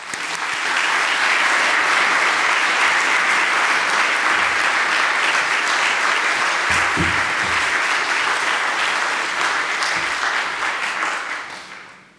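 Audience applause greets author Andrew Solomon at a 2018 book festival, a dense, loud, steady wash of clapping from a large crowd that holds for about twelve seconds and then fades at the end.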